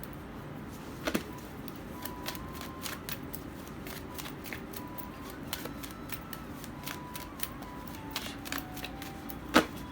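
Tarot cards are shuffled and drawn from a deck in a quiet room. Faint crisp snaps, slides and taps repeat irregularly throughout, close up and alone, with no talk.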